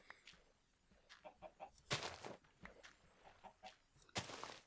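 Chickens in the video game Minecraft cluck in short repeated bursts, several soft clucks broken by a few louder squawks, fairly close with no talking.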